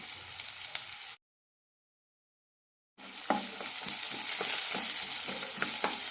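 Chopped ginger, garlic, shallots and curry leaves frying in hot oil with a steady sizzle and stirring scrapes, then a break of total silence before the sizzle resumes somewhat louder with repeated stirring strokes.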